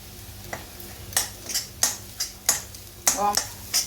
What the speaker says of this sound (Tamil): வாம போட்டு கிண்டி விடணும்.